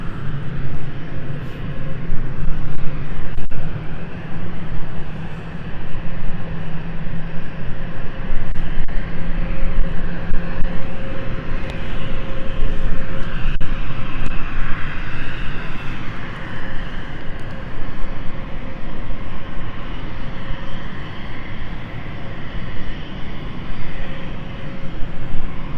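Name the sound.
Embraer 190 aircraft engine spooling up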